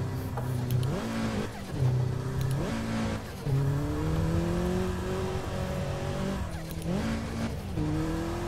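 A tuned Toyota GR86 of roughly 330 horsepower, driven on a hillclimb in the Assetto Corsa racing game: loud, continuous engine revving that climbs and drops through several gear shifts, with occasional tyre squeal.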